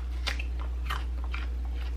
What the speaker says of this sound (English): you can just eat them like this and you can hear how crunchy they are